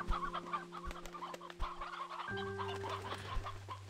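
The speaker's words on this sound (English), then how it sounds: "Wow, that's a lot of chickens." Clucking chickens in the video game Slime Rancher 2, a flock of short, repeated clucks and squawks over a steady tonal game music bed, fairly quiet and with no talking.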